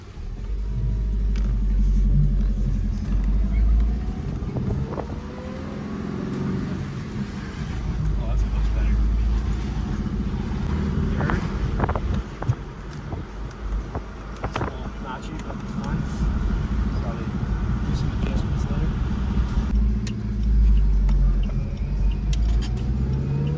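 A Saab 9-5 car rumbles along on a test drive after new shifter linkage bushings were fitted, its low engine and road noise steady throughout, with someone speaking now and then over it.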